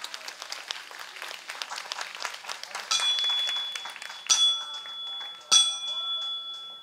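An audience at Tiehua Village applauds after a live band performance of a pop cover, with dense, steady clapping. Bright ringing bell tones come in partway through and continue over the crowd.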